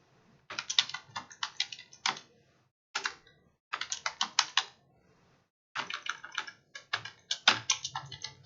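Bursts of quick keystrokes on a computer keyboard while a backup name is entered for Firebird and InterBase database files, clicking in clear close rhythmic runs separated by short pauses, with no talking.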